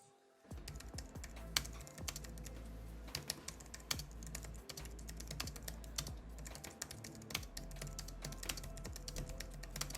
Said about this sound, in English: if you're typing, you'd be happy to know that these are not that loud